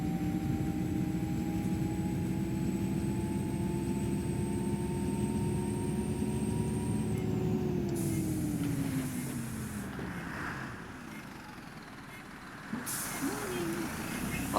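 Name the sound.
Optare Solo bus air brakes in OMSI 2 video game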